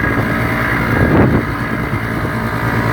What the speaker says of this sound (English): The sound of the engine motor.